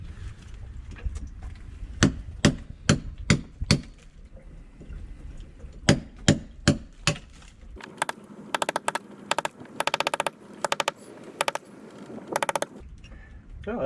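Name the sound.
chiseling away brick with hammer and chisel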